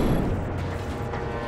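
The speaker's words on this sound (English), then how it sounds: "Yeah, explosions. I love explosions." Loud rumbling explosion noise from the Just Cause 3 video game, a dense continuous roar of blasts filling the moment without talk.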